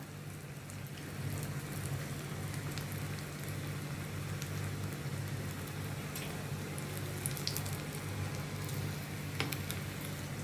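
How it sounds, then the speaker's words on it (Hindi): Vegetable koftas deep frying in hot oil in a kadhai over a medium flame, giving a steady, dense crackle and sizzle with occasional sharper pops under a constant low hum. "अभी इसमें मैं कढ़ाई में ये कोफ्ते में फ्राई करने के लिए डालती हूँ।"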